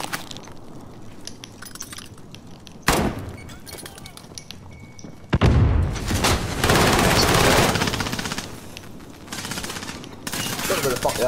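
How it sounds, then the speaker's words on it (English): Gunfire from an online shooter video game bursts out in rapid automatic volleys. Sharp loud shots break in around the third and fifth seconds, then sustained firing follows with players' voices mixed in. "He's killing him with his fire rounds, I believe."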